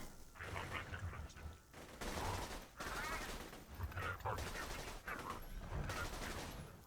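A Gwen's Head shock pistol fires repeated long bursts of rapid, crackling shots in Borderlands 2, recurring several times over faint background game noise.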